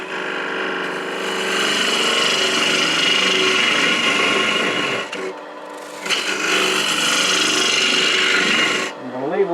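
A 5/8 inch bowl gouge ground at about 65 degrees cuts into wood spinning on a lathe while hollowing a box, a loud close rasping scrape in two long passes with a short break between them.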